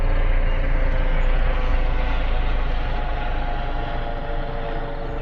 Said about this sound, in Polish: Oj, tutaj leci helikopter i zagłusza ten piękny koncert ptaków.